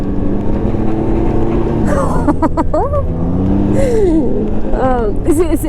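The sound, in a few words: Can-Am Ryker 2020 three-wheeler braking and accelerating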